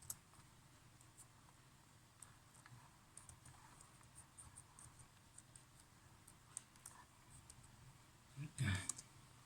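Login details are typed on a Huawei 5G router's login page, with soft, irregular key clicks and taps over quiet background, followed by a louder thump near the end.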